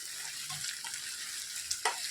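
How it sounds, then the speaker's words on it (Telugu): Sliced onions with ginger garlic paste fry in oil for a capsicum masala curry: a faint, steady sizzle with a few light stirring scrapes near the end. "ఉల్లిపాయలు వేగిపోయాయి అల్లం వెల్లుల్లి పేస్ట్ పచ్చివాసన పోయే వరకు వేయించుకోవాలి"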